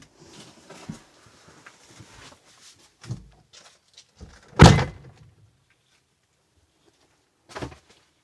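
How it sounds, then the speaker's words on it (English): RV back door being opened, a few scattered soft knocks and rattles followed by one sharp close thunk of the latch, then a brief later clunk in an otherwise quiet space. "Let me go to the back and open up the door."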